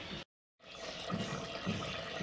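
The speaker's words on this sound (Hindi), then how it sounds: "मैंने एक गिलास पानी का आपके सामने डाला है" Water poured from a glass into a pot of simmering dal for a dal tinda dish on a home stove, a steady liquid splash and gurgle after a brief silence, close and moderately loud.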